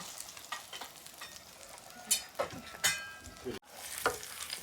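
Food sizzling and frying in a pan in a home kitchen, a steady crackling hiss with occasional sharper pops and stirring scrapes, close and continuous with no talk.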